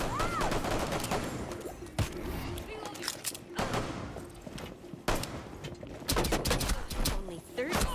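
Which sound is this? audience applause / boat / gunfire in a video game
gunfire in a video game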